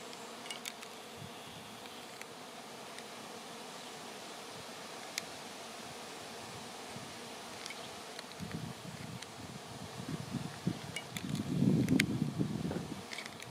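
A dense swarm of honey bees buzzes steadily, growing louder and closer toward the end, with faint rustling in the background.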